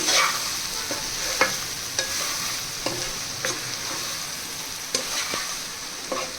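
Ridge gourd curry sizzles in a pan while a spoon stirs it, scraping the pan in regular strokes about every second over a steady frying hiss, close by and without speech.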